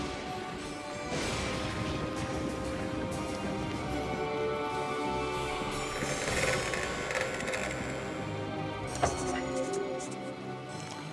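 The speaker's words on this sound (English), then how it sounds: "Loosening up bolts from the piano, legs," Wrench loosening bolts from the legs of a grand piano in a video game, heard as steady mechanical ratcheting and metallic clicking with a few sharper clanks, fairly close and continuous.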